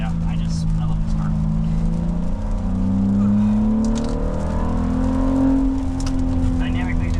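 A car engine drones and rises in pitch as it accelerates along the winding mountain road of the Tail of the Dragon on wet pavement, heard from inside the cabin, steady and fairly loud with a voice talking over it.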